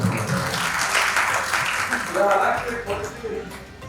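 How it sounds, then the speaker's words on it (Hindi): An audience at a Hindi kavi sammelan (poetry recital) in Ayodhya claps in a steady, dense wash of applause that lasts throughout, with voices audible beneath it. "स्वागत तालियों से बता दीजिए"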